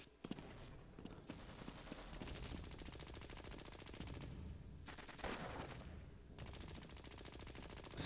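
Sustained automatic gunfire from the video game Half-Life: Blue Shift rattles in long bursts with short gaps between them, fairly quiet in the mix.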